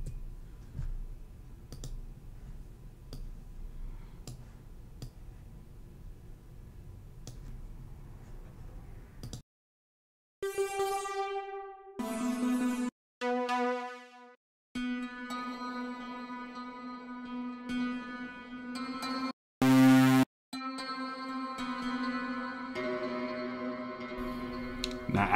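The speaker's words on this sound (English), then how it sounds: "search for some type of pluck sound" Synth pluck presets are auditioned in Logic Pro X. Soft clicking and faint noise come first, then short bright plucked synth notes and phrases start and stop one after another.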